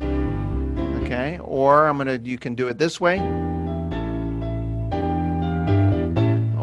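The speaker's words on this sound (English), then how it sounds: "So piano bossa nova, which normally sounds like this." An Elite electronic organ plays its piano bossa nova preset: a mellow rhythmic accompaniment with sustained bass notes and chords. A voice talks briefly over the music partway through.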